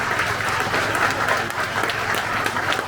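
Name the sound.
audience applauding public service staff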